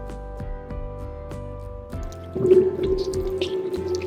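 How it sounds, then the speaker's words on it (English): Water poured gently from a jug over a head after a hair transplant, first soft dripping taps, then a steadier close trickle and splash. "As you see, I'm just pouring it over on top."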